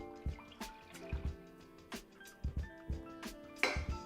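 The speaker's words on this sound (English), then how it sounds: "So I'm gonna pour my non-dairy milk into our pot here." Non-dairy milk is poured into a cooking pot in a kitchen. It sounds like a series of close, quiet liquid splashes and drips with irregular knocks in between.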